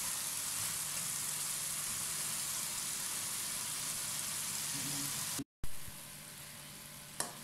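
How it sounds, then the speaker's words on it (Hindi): Chicken karahi masala sizzles and fries in a wok, a steady loud crackle throughout that cuts off briefly near the end before resuming. "इसको हम अच्छे तरीके से आप भून देंगे"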